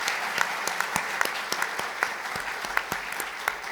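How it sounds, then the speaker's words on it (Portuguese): Audience clapping at a Seicho-No-Ie celebration day event: sharp, distinct claps from a modest crowd, fairly quiet and slightly distant, continuing steadily with no talk over them. "Acho que merece uma salva de palmas essa iniciativa bonita"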